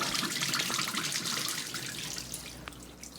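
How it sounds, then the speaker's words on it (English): An LG washing machine drains into a sink, making a soft, steady rush of water pouring and splashing into the basin, faint and continuous with a few small drips, with no speech. "So it drains right over here in my sink."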